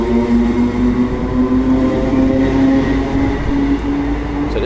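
A class 321 electric train rumbles past nearby at Manningtree station with a steady low roar and a sustained whining tone that rises and falls slightly.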